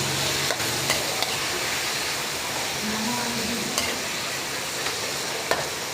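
Chicken pieces sizzle in a hot pan while being stirred, a steady soft frying hiss with occasional scraping clicks from the utensil, close by and without speech.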